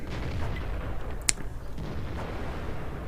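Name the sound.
artillery fire in the video game World of Tanks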